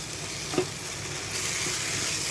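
A jackfruit seed mash (bharta) is stirred in a hot pan, with a continuous dense sizzle, one soft scrape early on, and the frying growing a little louder in the second half.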